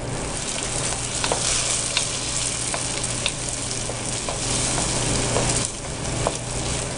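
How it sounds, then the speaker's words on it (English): Eggs seasoned with a few pinches of salt fry and get stirred in a pan, a steady close sizzle with occasional sharp scrapes of the utensil, continuous and unbroken throughout. "Keep on stirring the eggs."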